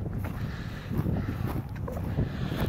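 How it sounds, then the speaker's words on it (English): Chilly wind at about 35 degrees blows steadily over an open hillside property, a broad, continuous rush with gusty buffeting on the microphone and no voices. "35 and windy."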